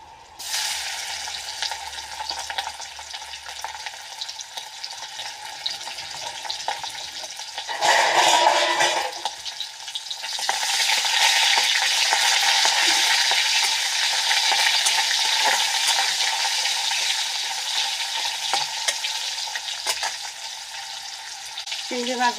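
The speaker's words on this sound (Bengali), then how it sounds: "চিংড়ি মাছ ভাজা হয়ে গেছে" Shrimp fry in a pan with chilies, giving a loud, steady sizzle throughout. A brief burst of stirring comes partway through, then the hiss settles back to a constant frying roar.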